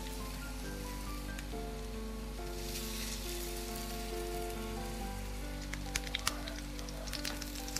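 Food shallow frying in oil until brown gives a constant soft crackling sizzle at low volume, with background music and a few sharp clicks near the end.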